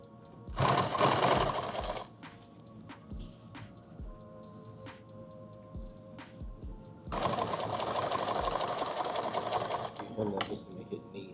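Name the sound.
sewing machine stitching a small hem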